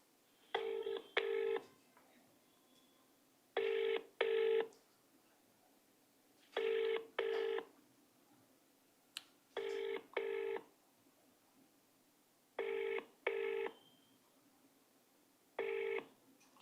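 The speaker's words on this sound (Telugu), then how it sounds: "ఫోన్ లిఫ్ట్ చేయలేదు, మళ్ళీ మాట్లాడే ప్రయత్నం చేద్దాం" A phone call rings out unanswered: paired electronic ring tones repeat about every three seconds, loud and close, with nothing else between the bursts.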